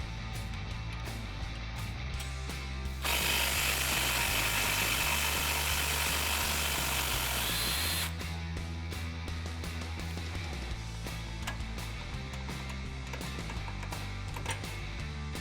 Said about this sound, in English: Now we can remove our lower shock bolt.